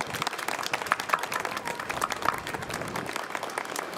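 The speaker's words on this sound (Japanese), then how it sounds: "皆様、最後にですね、もう一度盛大な拍手の方をお送りください" Audience applause at an open-day mini concert by the Shimonoseki Commercial High School brass band, held at a rail depot festival: steady, dense clapping from a moderately sized crowd, sustained evenly throughout.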